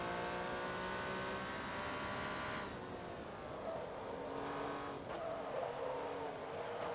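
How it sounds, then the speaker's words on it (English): Race car in Forza Motorsport 2 with a steady high-revving engine whine, its pitch shifting on downshifts, and tires squealing and skidding through corners, loud and continuous with no talk. "Did I downshift too early, or is it the tires that are mad?"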